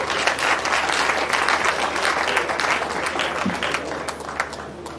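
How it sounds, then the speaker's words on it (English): Applause for new graduate members inducted into the Nigerian Society of Engineers: steady, dense clapping from an indoor audience, fairly loud and sustained for the whole stretch with no talk over it. "can we give them a round of applause?"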